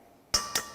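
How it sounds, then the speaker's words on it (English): An egg is cracked into a bowl of mashed avocado and Greek yogurt for blueberry muffin batter: two quick, sharp taps close by, the second softer than the first. "Crack in your egg."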